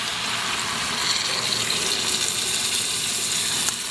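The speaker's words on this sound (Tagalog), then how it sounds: "ilalagay po natin or ibubuhos natin yung pinagbabaran, which is yung marinade po." Marinade poured into a pot of kaldereta, a continuous splashing, gushing pour of liquid close by, lasting throughout with no speech.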